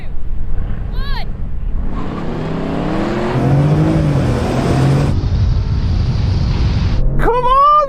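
Two SUVs, a Range Rover and a Bentley Bentayga, launch in a drag race, their engines revving hard and climbing through the gears as a loud, steady roar builds and holds for several seconds, with brief voice-like chirps at the start and end.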